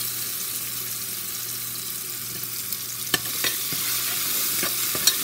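Chopped big onions sizzle and fry steadily in a pan for a Tamil brinjal and drumstick tamarind curry, with a continuous hiss and a few sharp clinks of stirring near the end.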